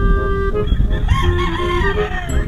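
A pure Boston Roundhead broodcock rooster gives a loud, close crow, a rising then drawn-out call over a background of other fowl clucking and farmyard noise.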